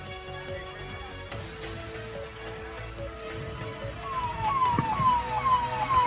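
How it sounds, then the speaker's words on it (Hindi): An ambulance siren wails during a police and civil defence rescue drill, sweeping up and down steadily and growing louder as the vehicle approaches amid background traffic rumble. "एम्बुलेंस की गाड़ियां घायलों को ले जाकर यहाँ पुलिस लाइन में जो अस्पताल है"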